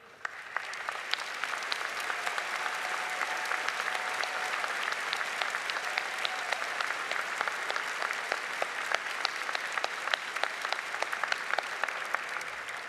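A graduation ceremony audience applauds the faculty in a steady, sustained wave of clapping that fills the hall evenly for over twelve seconds, with no voices over it.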